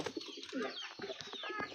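A pigeon coos softly close by in a loft, a short run of low throaty burbling notes repeated a few times, faint and alone without talk.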